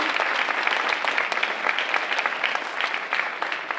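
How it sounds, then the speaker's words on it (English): A school MLK Jr event audience claps for a lunchroom volunteer, a sustained, dense round of applause from a sizable crowd at steady loudness with no talk over it. "somebody needs to give a hand clap on that"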